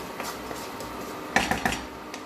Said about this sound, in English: We give all these masalas a very nice stir.